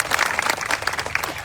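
A rally crowd breaks into loud, dense applause, with many hands clapping at once in a brief, energetic burst that stays steady throughout.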